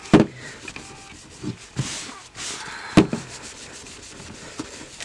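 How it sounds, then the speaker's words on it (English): Cloth rubbing a surface with blue window cleaner, a steady scrubbing hiss broken by a few sharp knocks and bumps, close and fairly quiet with no talk. "A window cleaner that's blue. Okay, and you just rub."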